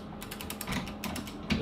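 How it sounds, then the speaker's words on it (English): A torque wrench being fitted onto a rifle barrel and action during a fixed-shoulder prefit barrel install, giving a short run of light metallic clicks and ratchet-like ticks, close and fairly quiet. "Now that I have my torque wrench set, go ahead and slip that onto"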